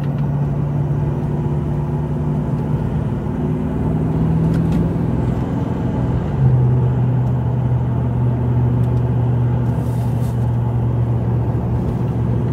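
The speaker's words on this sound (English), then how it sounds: "we're going to climb up this hill with the lockup kit engaged" Vehicle engine pulling steadily up a hill with a Richards lockup kit engaged, low lock held on and gears changed manually around 70 km/h; a continuous loud drone whose pitch steps up midway as load shifts, no talking.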